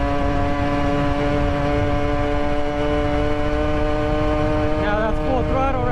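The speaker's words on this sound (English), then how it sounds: "So it's going 31 miles per hour right now, just on the gas." A 63cc 2-stroke gas engine on a tribrid bicycle, running at speed with a steady, high buzzing drone and a constant rushing noise, loud and close throughout.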